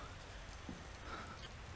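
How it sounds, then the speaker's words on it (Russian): Steady rain falls in the Resident Evil 2 video game, a continuous soft broadband hiss of drops on surfaces that stays even and moderately faint for the whole stretch, with no voices. "Почему дождь идет?"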